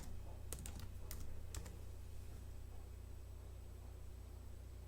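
Brief burst of typing on a Mac keyboard entering an administrator password, a few quick close clicks early on, then quiet room hum.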